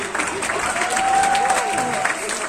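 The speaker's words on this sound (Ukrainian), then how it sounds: "І балкон дайте також аплодисментів." A concert audience in Ternopil, including the balcony, applauds a singer: loud, sustained clapping from a large crowd with light cheering, and a faint held tone rising above the clapping.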